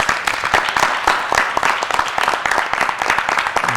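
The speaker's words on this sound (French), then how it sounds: "Merci à notre chaleureux public qui va encore bien fort s'applaudir." An audience applauds steadily, dense clapping at a lively, even level from start to finish.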